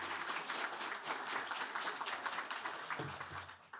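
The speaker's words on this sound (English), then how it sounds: "Let's give them a round of applause as they make their way up." Audience applause at a city event as the mayor and council members walk up to the stage, continuous, dense clapping from a large crowd that eases slightly near the end.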